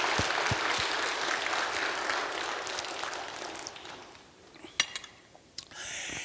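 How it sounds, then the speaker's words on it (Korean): A church congregation claps for the special music singers at a revival service, dense applause for about four seconds before it thins into scattered claps and a few clinks. "우리 그분들도 한번 박수하겠습니다"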